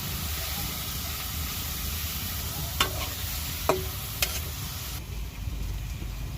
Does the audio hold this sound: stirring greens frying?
yes